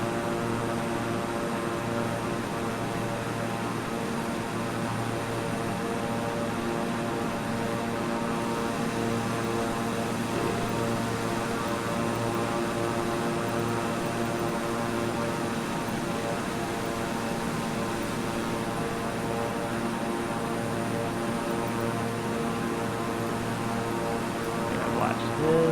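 A steady, droning aircraft engine hum from Microsoft Flight Simulator holds through a climb, a constant propeller-like tone with no breaks, played loud and even throughout.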